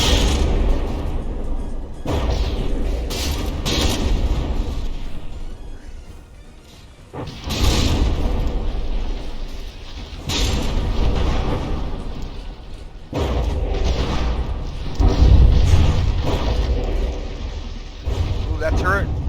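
Shells strike the hull of the battleship Bismarck in the naval combat game From the Depths, producing repeated heavy booming impacts and rumbling blasts over a steady din of battle noise, with someone talking throughout.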